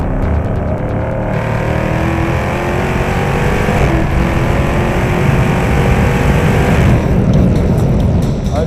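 A race car engine roars during the One Lap of America event while its transmission will not stay in third gear. The loud drone is heard close from inside, shifting in pitch throughout, with no speech.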